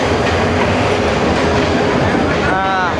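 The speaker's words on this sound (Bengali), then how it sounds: "ট্রেন চলে আসলো।" A train pulls into a station, its loud, steady rumble filling the whole stretch, with a brief rising squeal of wheels or brakes near the end.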